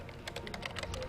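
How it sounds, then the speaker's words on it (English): Rapid keyboard typing during a competitive online game match, a steady patter of key clicks close up over a low background hum, with no talking. "I'm typing."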